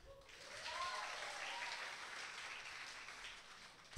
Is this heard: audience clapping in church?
yes